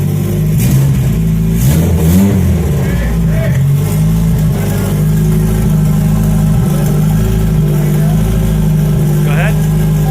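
A car engine rumbles loudly close by, briefly revving up before settling back to a steady idle drone, with people talking over it.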